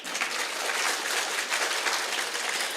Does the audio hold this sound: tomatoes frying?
no